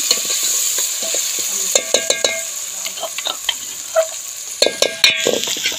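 Onions fry and sizzle in a pan while being stirred until brown for a Punjabi palak dish, with a steady hiss punctuated by irregular scraping and clinking stirs, close and alone without talk.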